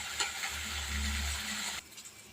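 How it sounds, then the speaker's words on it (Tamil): Turkey berries sauté in hot oil in a pan for a curry, giving a steady close sizzle with light stirring scrapes that drops away near the end. "அதனால் கொஞ்சம் நல்லா எண்ணெயில் வதங்கட்டு"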